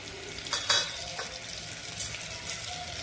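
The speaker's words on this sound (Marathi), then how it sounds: "आता त्यामध्ये मी गोडा मसाला, मटन मसाला, थोडीशी हळद, धना पावडर आणि घरचा गरम मसाला हे मसाले टाकणार आहे" Goda masala, mutton masala, turmeric, coriander powder and homemade garam masala frying in hot oil in a kadai, a steady close sizzle with a few brief stirring scrapes and louder spits near the start, no voices.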